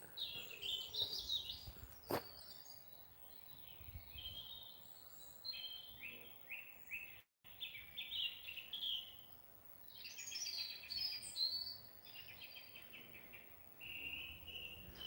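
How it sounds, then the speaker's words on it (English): Birdsong of skylark type fills the clip: bright, continuous high warbling trills from several birds, moderately distant, with a soft outdoor background and no talking. "Ah, these are real skylarks."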